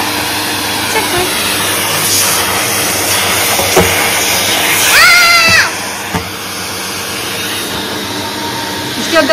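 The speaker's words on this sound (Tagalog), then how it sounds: "Kaya na yan nagbabacuum dito." A vacuum cleaner runs with a loud, steady roaring hiss throughout. A whining tone rises and falls briefly in the middle, and the continuous drone fills the background.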